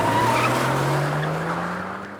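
A car skids in The Simpsons video game, a loud sustained rumbling tire screech with engine noise lasting about two seconds and fading slightly toward the end.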